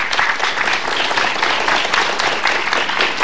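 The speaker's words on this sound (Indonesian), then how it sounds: "tepuk tangan buat tamu saya" Steady, dense applause from a television studio audience welcoming a guest on an Indonesian health talk show, continuous and fairly loud throughout with no talk over it.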